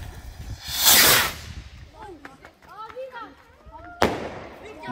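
Klasek Devil Rockets fireworks set off three at a time outdoors: a loud bursting crack opens, crackling and whistling follow, then a second sharp bang. People talk nearby.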